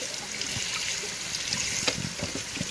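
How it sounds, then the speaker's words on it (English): Water trickles and splashes steadily as the gray plastic parts of a Hoover carpet cleaner are rinsed under running water, a close, continuous wash with small clatters of plastic. "I'm rinsing the gray. All the residue falls to the bottom."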